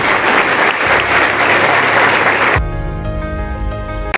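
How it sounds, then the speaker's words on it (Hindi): A church audience applauds loudly for a visiting bishop at a youth training seminar in a parish hall in Gujranwala, a dense steady roar of clapping that cuts off abruptly, followed by music. "आपकी भरपूर तालियों में खुशामदीद करते"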